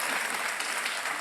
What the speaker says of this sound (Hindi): जिस तरह से लोग तब ताली वाली चीख चीख के बजा रहे हैं ना